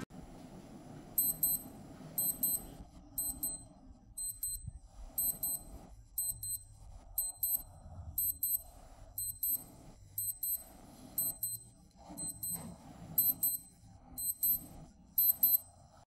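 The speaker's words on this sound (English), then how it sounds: "the alarm sounds are also similar." A Casio digital watch alarm chirps in quick repeated bursts of high beeps, a steady pattern of short pulses over quiet background handling noise.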